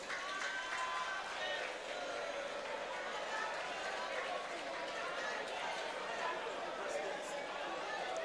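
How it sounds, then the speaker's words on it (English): Audience applause at an economic development conference in Nigeria, a steady dense wash of clapping lasting the whole stretch, somewhat distant and moderately soft, with crowd chatter mixed in. "A round of applause for him, please."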